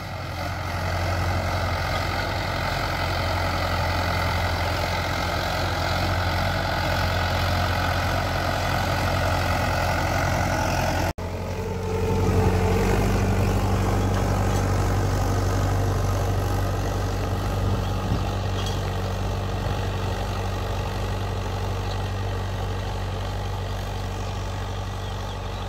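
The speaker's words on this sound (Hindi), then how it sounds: "ये तो बड़ा ट्रैक्टर है, ये भी देख सकते हैं आप, ये भी कितने स्लिप ले रहा है इसमें हैरो में" A large tractor engine drones steadily while pulling a harrow through a field, with slipping under load before sugarcane planting. The rumble is loud, low and continuous, shifting slightly partway through with no speech.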